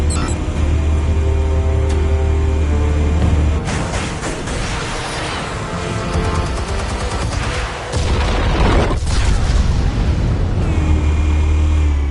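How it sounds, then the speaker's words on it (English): Explosives detonate in a PS4 video game: loud booming blasts and rumbling bursts over a continuous low game soundtrack, with heavy impacts around the middle of the stretch. "Explosives armed. Fire when ready."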